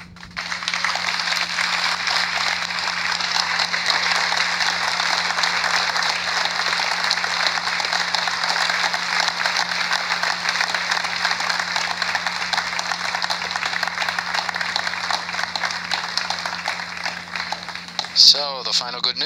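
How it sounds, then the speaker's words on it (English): A crowd in the Jupiter control room applauds steadily and densely for a long stretch when Ariane 5 releases the GSAT-17 satellite; the clapping stays even and close throughout, with a steady hum beneath. "you heard the applause from the people here in Jupiter as Ariane 5 has delivered her second passenger"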